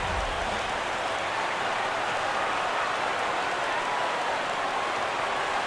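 A large simulated ballpark crowd roars in MLB The Show 17 during a Padres–Dodgers game, a steady dense wash of cheering noise that holds level for the whole stretch with no talk over it.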